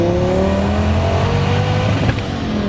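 A 2002 twin-turbo Dodge Viper accelerates hard, its engine note rising steadily in a loud, continuous drone heard from inside the car, with a brief shift blip near the end.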